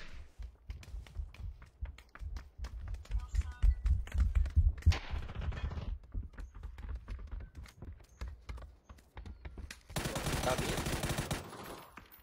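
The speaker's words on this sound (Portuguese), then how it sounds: "Agora estão atirando de verdade" Gunfire in a shooting video game: bursts of rapid shots and scattered single cracks over thudding footsteps, then a loud dense volley near the end, with no talking.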